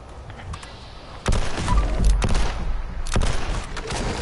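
Combat rifle gunshots in the Fallout 76 video game, several loud, sharp cracks spaced irregularly with a booming low-end tail after each, no talking.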